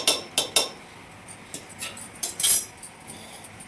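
A metal lid is lifted off a cooking pot of boiled moong dal for payasam, giving a few sharp clinks and scrapes of metal on metal up close, with no talking.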